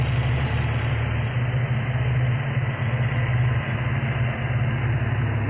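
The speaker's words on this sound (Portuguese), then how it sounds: "Caravan, 6 cilindros a gasolina," A 1990 Chevrolet Caravan with a six-cylinder gasoline engine, converted to Monza single-point EFI injection, idles steadily at close range, a constant low rumble with no talking.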